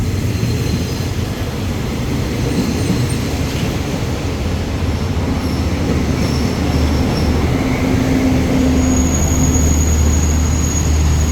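Thai rapid train 170, with JR passenger cars coupled at both ends, at Ban Pong station: a loud, continuous rail rumble with faint squealing tones throughout.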